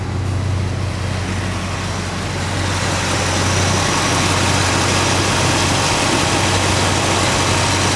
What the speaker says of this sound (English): So there it is, just idling nicely.